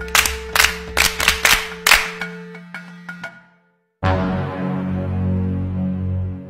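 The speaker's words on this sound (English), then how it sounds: "Clap for yourselves." A classroom of students claps for themselves in a short burst of loud, uneven claps that thin out into a few scattered ones and stop; after a pause, a sustained tonal sound follows.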